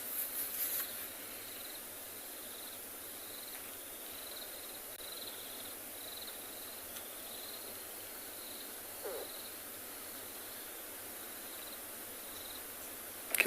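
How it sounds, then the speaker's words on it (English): Oxpeckers calling in the South African bush during an afternoon safari, a faint string of short, evenly repeated notes off to one side, over steady insect buzzing, with no voices. "Can hear a few oxpeckers calling to our left"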